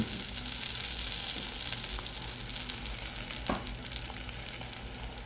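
Tortillas toast in butter in a pan with a steady, bright, hissing sizzle, close and even, and a few faint utensil taps, with no voices.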